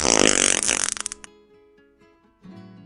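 A cartoon elephant fart sound effect blares in one long, loud, buzzing rasp that sputters into rapid pulses, followed by a few softer, musical toots.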